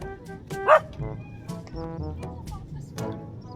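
A dog barks repeatedly while chasing joggers on the road, several sharp close barks and yips spread over a few seconds, with people's voices and heavy breathing mixed in.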